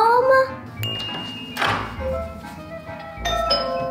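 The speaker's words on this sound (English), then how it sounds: "Was that a doorbell?" A two-tone doorbell chime rings out, followed shortly by another bright ding, amid a voice and household noise.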